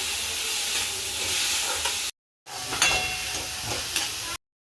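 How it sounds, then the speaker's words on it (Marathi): Salted onion and chopped tomato fry together in a pan for a chickpea masala, giving a steady close sizzle and hiss that cuts out briefly midway, then resumes with a few louder crackles before stopping. "आता टमाटो टाकून घेऊया दोन्ही असं छान असं भाजून घेऊया"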